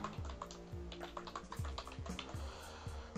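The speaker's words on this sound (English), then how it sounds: "we can type the keywords" Keys clack on a computer keyboard in a quick, uneven typing rhythm with soft thuds of individual keystrokes, close but quiet.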